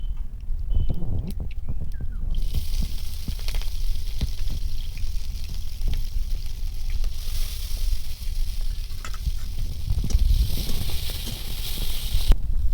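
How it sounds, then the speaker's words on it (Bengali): Green chillies and chopped onion fry in hot oil in a village kitchen, a continuous close sizzle and crackle that holds steady throughout with a few faint scrapes of stirring. "কাঁচা লঙ্কা পেঁয়াজ ভাজা হয়ে গেছে"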